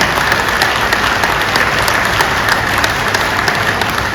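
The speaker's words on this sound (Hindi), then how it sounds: "जोरदार तालियां।" Loud, steady applause from an audience at a Saman Sangh gathering in Hisar, Haryana, a dense unbroken wash of clapping holding the whole stretch without talk.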